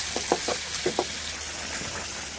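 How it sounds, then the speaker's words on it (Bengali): Chopped onion and green chilies frying with shrimp in a pan, a soft steady sizzle with a few brief clinks and stirring scrapes early on, fairly quiet throughout. "এখন দিয়ে দিব পেঁয়াজ কুচি আর কাঁচামরিচ, এগুলো একটু ভেজে নেব।"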